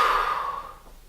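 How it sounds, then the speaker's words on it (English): A person exhales steadily through the mouth during an abs workout, one soft close breath that fades over about a second. "palms down, you're going to breathe out"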